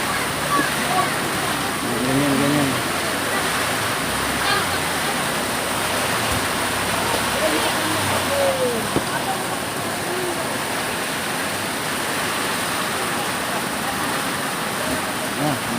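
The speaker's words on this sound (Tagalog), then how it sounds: "Malakas ang ulan. Grabe ulan." Heavy rain pours in a dense, steady roar throughout, with faint voices and occasional splashes beneath it.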